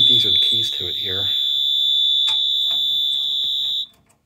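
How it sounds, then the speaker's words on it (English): A loud, continuous high-pitched electronic alarm tone from a Cintas AED wall cabinet door alarm sounds for several seconds, then cuts off abruptly; a voice speaks briefly at the start. "that's how you turn off the beeping thing"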